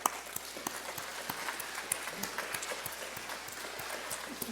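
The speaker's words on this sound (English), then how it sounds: "Please give them a round of applause." An audience at a college commencement ceremony claps, though the sound is faint and distant: scattered, sparse hand claps over a low background hum.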